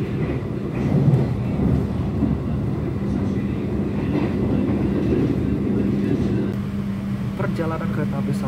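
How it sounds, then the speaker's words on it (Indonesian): The Sawung Galih passenger train to Kutoarjo gives a loud, continuous low rumble inside the carriage, with a steady droning hum entering partway through and muffled voices faintly underneath. "naik kereta api Sawung Gali ke Kutoarjo ada tarif khusus seperti ini"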